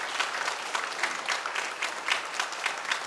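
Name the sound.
congregation applause for newly appointed deacons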